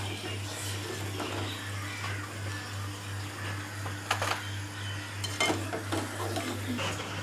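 Fried gobi 65 is lifted out of hot oil and moved to a plate. Oil sizzles and frying hiss runs steadily under a low hum, with a few clinks and scrapes of a utensil on metal and no speech.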